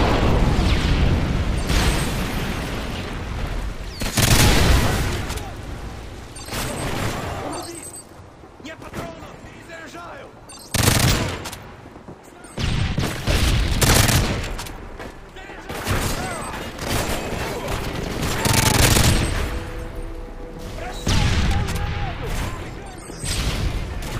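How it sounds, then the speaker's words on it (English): Repeated heavy explosions and bursts of gunfire from an airstrike in the video game Modern Warfare 3, loud booming blasts spaced every few seconds with rattling shots between them. "Friendly airstrike on the way."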